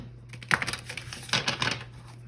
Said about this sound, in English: Spirits tell me to shuffle one more time.